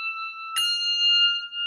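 Handbells rung in Shelley style, a sustained bright tone already ringing when a second clear strike lands, both notes blending and decaying smoothly with no voices.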